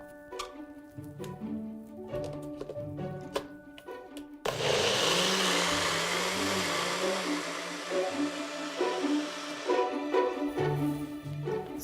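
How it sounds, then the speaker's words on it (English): A countertop blender whirs loudly for about five seconds as it purees a green smoothie of chopped, frozen produce, with quieter kitchen sounds and a voice before and after the burst. "we will give it a blend"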